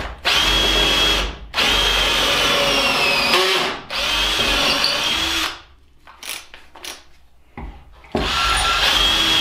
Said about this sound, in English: Adjust your clamp and drill them.